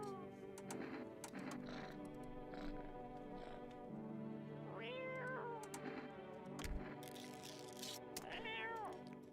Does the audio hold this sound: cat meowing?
yes